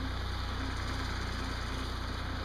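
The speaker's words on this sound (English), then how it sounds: "I got a tractor following me. Coming through with a tractor." A tractor engine runs steadily nearby with a low, even chugging idle and constant rhythmic pulsing, loud and unbroken with no voices over it.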